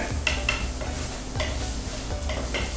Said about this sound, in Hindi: उसको काट के इस तरह से डाल लें, इसमें भून लेते हैं।